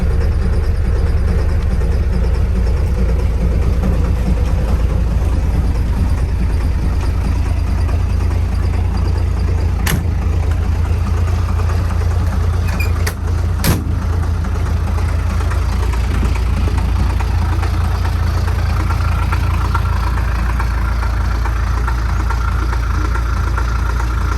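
A 1969 Ford F100 truck engine runs steadily at close range, a loud, continuous low rumble that holds fairly even throughout, with a few brief clicks near the middle.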